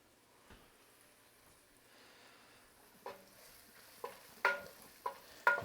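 Onions stir-frying in a pan for an apple pie stir fry, with a soft steady sizzle building into several sharp clattering stir strokes toward the end, no talking.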